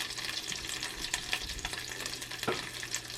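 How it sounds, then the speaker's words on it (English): Spam slices frying in bacon grease in a cast iron pan, giving a steady close sizzle and crackle throughout with a few louder pops and spatters. "Got the bacon grease for the Spam."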